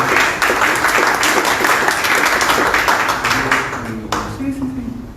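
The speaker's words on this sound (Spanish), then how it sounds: "lo recibimos con un fuerte aplauso" An audience applauding to welcome a speaker at an academic talk, loud, dense clapping that fades slightly toward the end as a voice begins speaking over it.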